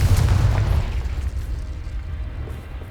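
A Confringo spell blast in Hogwarts Legacy lands as a deep, rumbling boom that swells at once and then trails off in a long low roar, loud and close, with no voices.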